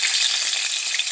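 Garlic sizzles steadily in a hot pan, a bright, even crackle with no voices over it.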